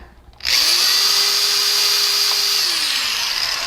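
A power drill bores a hole into a work table: a loud, close, high whine starts suddenly, holds steady and then winds down at the end.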